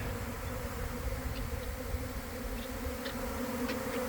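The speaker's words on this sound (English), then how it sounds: "Still a lot of bees in the air." A honey bee swarm buzzing through the air, with a dense, continuous drone and individual bees occasionally whizzing past the microphone, heard with no talk.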